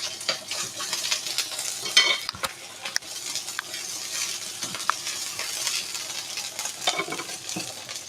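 Burgers fry in a kitchen pan with a continuous dense sizzle and crackle, dotted with occasional scrapes and stirring clatter, moderately loud and steady throughout.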